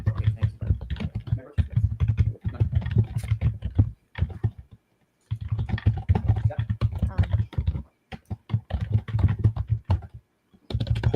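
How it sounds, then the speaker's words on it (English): Computer keyboard typing in a courtroom setting: quick, clattering keystrokes in dense bursts with short pauses, fairly loud and close throughout. "Holy keyboard, Marissa."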